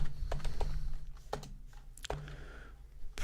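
Quick, irregular clatter of keys on a computer keyboard during a coding session, close and moderately loud, with a steady low hum beneath and no speech.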